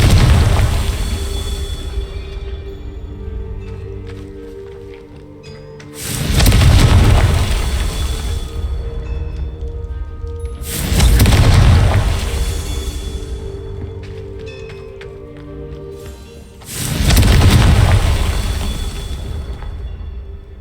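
Confringo spell explosions in Hogwarts Legacy: four heavy booming blasts come at intervals of about five seconds, each swelling loud and then fading into a low rumble.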